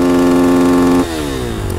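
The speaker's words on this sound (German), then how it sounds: "werft die Motoren an" Motorcycle engines fired up ahead of a wheelie: a loud, steady droning engine note holds for about a second, then drops and shifts into a rougher, lower running sound, with no one talking.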